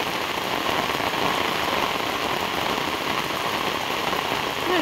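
Heavy rain pours steadily onto garden plants and trees, a dense, continuous hiss of drops, loud and close throughout, with no voices.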